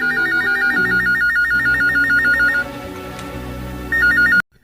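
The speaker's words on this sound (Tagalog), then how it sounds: "Pabagalan telepono" A telephone rings in a repeating electronic warble during a radio drama, loud and alone for a few seconds, pausing briefly and resuming before cutting off abruptly.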